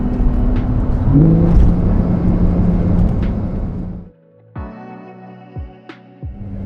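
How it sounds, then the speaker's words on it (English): A 2021 Porsche 992 Turbo S with a twin-turbo engine accelerates hard, a loud rising engine roar close by, then sharper upshift-like tones with rhythmic pulses as the run continues. "So right now we're driving, put my foot down,"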